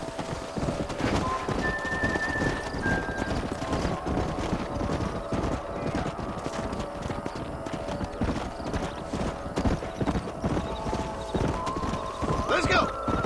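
Horses gallop in the Western game Red Dead Redemption, with rapid, continuous hoofbeats near and loud, an occasional whinny, and people talking over the pounding.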